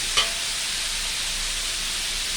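Pork stir-frying in a pan gives a steady, broad sizzling hiss throughout, close and fairly loud, with one brief clack near the start and no speech.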